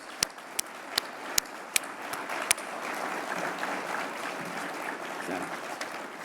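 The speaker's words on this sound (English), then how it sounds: "let's give him a big round of applause" A conference audience at an arthritis foundation general session gives a round of applause: a few sharp, separate claps at first, then a steady, moderately loud wash of clapping from a crowd with no voices over it.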